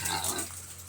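A pig grunts and squeals close by while being herded, a short burst of rough oinks that fades in under a second.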